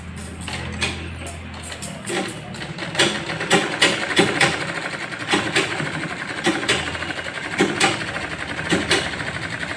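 Sewing machine stitching a lined blouse, heard close up as a steady mechanical whir with rapid rhythmic needle ticks, running alone without talk.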